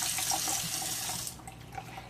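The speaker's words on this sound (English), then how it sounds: "So right now we get this kind of water flow from our faucet." Kitchen faucet fitted with a color-changing LED light runs in a steady, close, hissing stream of water into the sink, loud at first and easing slightly toward the end, with no talking.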